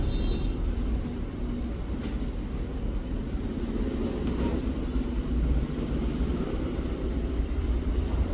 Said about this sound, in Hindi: गाड़ी में बैठे हैं, गाड़ी चालू हुई है